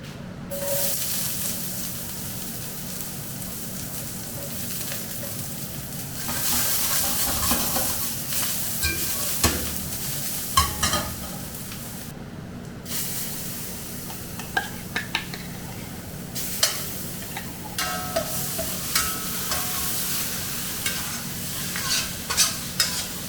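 Ginger, chili, burnt turmeric and shrimp paste fry in a pan for a rawon spice base, a steady sizzle broken by repeated stirring scrapes and clinks of a utensil against the pan.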